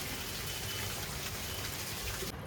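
Heavy, fast rain pouring down, a dense unbroken hiss of drops striking surfaces, steady and even for the whole span at a moderate distance.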